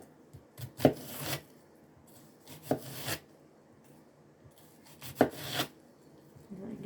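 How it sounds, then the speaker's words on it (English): A chef's knife slices through an onion on a cutting board in a few separate crisp strokes, each ending in a sharp knock on the board, with quiet pauses between cuts. "I'll take the chef's knife and just slice however thick you would like it"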